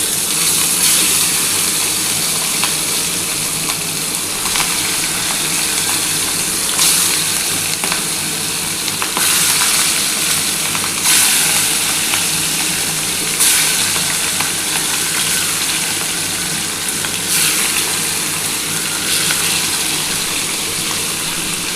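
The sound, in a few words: catla fish pieces frying in oil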